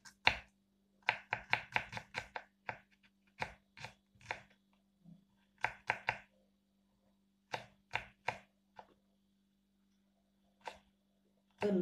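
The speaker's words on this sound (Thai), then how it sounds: "ยายก็ใส่กระเทียมสักสองกิ่งน้องมาซอยเนี่ยน้อง ซอยเป็นแว่นเล็กๆเล็กๆนี่" Garlic cloves sliced into small thin rounds with a knife on a board, giving a series of sharp, close chopping taps in quick bursts with pauses between them, under a steady low hum.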